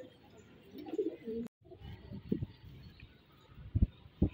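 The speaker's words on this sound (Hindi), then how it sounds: "ये बहुत कम दिखने को मिलते हैं ऐसे कबूतर" Lalband pigeons, among rarely seen loft birds, give soft low cooing calls in several short bursts, close by and fairly quiet, with faint rustling between.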